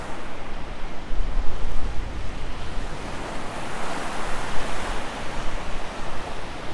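Strong wind buffets the microphone on a beach during an early morning shelling walk on Sanibel. It makes a loud, continuous roar with gusts rising and falling throughout.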